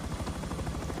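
Helicopter rotor chopping steadily and loudly throughout in a video game, a dense rhythmic thump with no voices.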